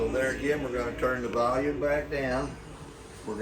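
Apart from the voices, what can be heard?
None of the usual background noises is heard.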